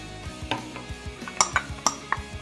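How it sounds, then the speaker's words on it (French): Mussels and tomatoes stirred in a pan with a utensil, giving a series of close, irregular clinks and scrapes of shells against the pan and spoon, with soft sizzling underneath. "Je mélange bien."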